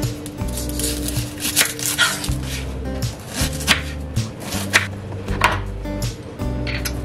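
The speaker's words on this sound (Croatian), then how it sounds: "a onda ćemo da očistimo i naseckamo 1 glavicu crnog luka" An onion is chopped on a board in a kitchen, a series of close, fairly loud knife taps falling in uneven bursts over several seconds, alone without talk.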